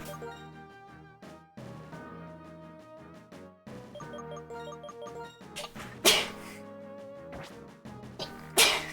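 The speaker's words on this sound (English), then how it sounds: "No! Stop sneezing!" A person sneezes twice, sharp loud bursts late in the stretch, over tinkling Pokémon White 2 video game music.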